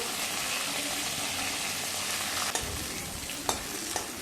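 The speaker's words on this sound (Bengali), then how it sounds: "মাছের মাথাটা মোটামুটি ভাজা হয়ে গেলে খুন্তি দিয়ে মাছের মাথাটা আমি ভেঙে নিচ্ছি" A hilsa fish head fries in oil while a spatula breaks it apart: a dense, close sizzle broken by three sharp metal clicks from the spatula near the end, no voices.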